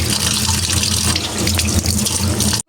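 Kitchen tap water runs steadily over chopped papaya as it is washed, a loud, close, continuous splashing gush that stops abruptly at the end.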